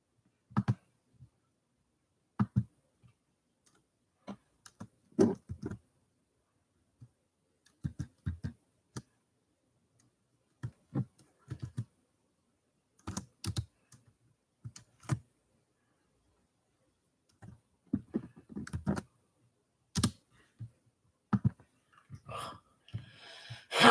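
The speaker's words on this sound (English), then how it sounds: "I'm glad I had this on my clipboard so it doesn't take me as long to type everything out." Intermittent computer keyboard typing, sparse keystrokes and short clattering runs spread across long quiet stretches, close-miked and soft.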